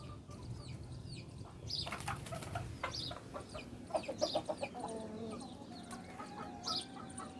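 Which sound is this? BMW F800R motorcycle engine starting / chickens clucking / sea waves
chickens clucking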